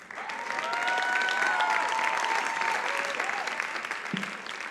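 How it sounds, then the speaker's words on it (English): Sustained applause from a church congregation swells and holds, loud and continuous, with a few high whistles or cheers riding over the clapping and scattered voices underneath. "let's give another round of applause to Gabriel"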